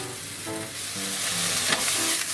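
Pork slices for ginger pork searing in a hot pan, a continuous close sizzle with faint scrapes and clinks over it, steady and unbroken.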